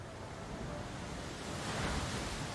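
A rushing, surging wash of water from Gyarados's Muddy Water attack in a Pokemon battle, a broad, steady roar that swells slightly toward the end.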